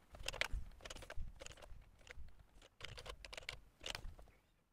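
Quick bursts of typing on a computer keyboard while labeling audio tracks in editing software, soft irregular clusters of keystrokes with short pauses between words, close and quiet.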